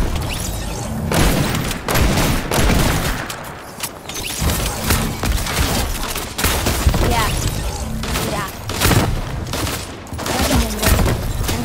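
Rapid gunfire from a double pistol in the video game Fortnite: dense, loud volleys of shots and booms running almost continuously, with brief dips between bursts.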